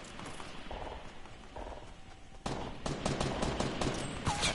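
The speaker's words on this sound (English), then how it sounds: "all the shooting's happening so close to me" Rapid bursts of gunfire from a video game battle against insurgents, dense and close, with volleys growing louder and more intense partway through, no talking.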